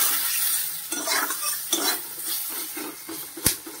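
Onions frying in a pan are stirred, giving a soft sizzle punctuated by repeated scraping and clinking strokes of the utensil, with one sharper knock near the end.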